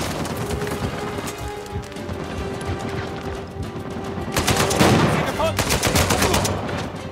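Rapid bursts of gunfire in Uncharted 4: A Thief's End crackle over a steady rumbling backdrop, growing louder and denser toward the end.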